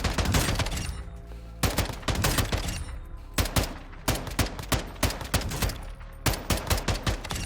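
SO40 semi-auto rifle firing in the Warzone video game: sharp, close shots in a dense volley at first, then a steady rapid rhythm of repeated single cracks, with no talk over them.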